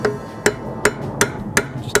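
A hammer taps a punch to drive out brake caliper pins on a rear brake, six sharp metallic strikes at a steady, even rhythm, close and clear.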